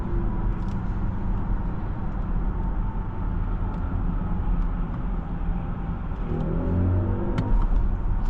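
A BMW iX M60 electric car under way with its artificial drive sound, a steady low synthetic hum over road rumble, continuous and close, with no talking.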